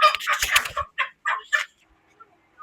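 Chickens at a poultry shop: a dense, loud flurry of squawking and clucking, then three short separate squawks and near silence.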